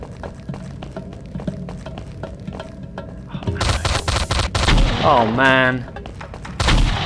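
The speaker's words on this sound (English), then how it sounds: "Let's go in with the shotgun." Shotgun blasts in the 2009 FPS Creator game Mob Ties Tokyo, a run of sharp reports that grows louder and denser toward the end, with a brief spoken exclamation in the middle.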